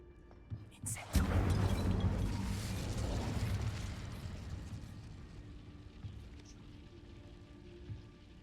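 A fire spell bursts in Hogwarts Legacy: a sudden loud crackling blast at about one second, followed by a long hissing, rain-like roar that slowly fades, with faint game sounds behind it.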